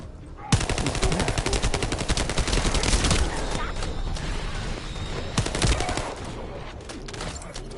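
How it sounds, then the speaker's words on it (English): Gunfire in the sci-fi looter-shooter video game The First Descendant: loud, rapid automatic bursts rattle almost continuously, with a few brief pauses between volleys. "What the hell is he shooting with?"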